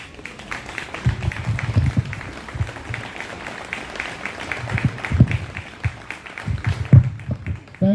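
Audience applause at a New Jersey political gathering, a sustained bed of crowd clapping with scattered louder claps and some cheering, rising and falling over several seconds with voices mixed in.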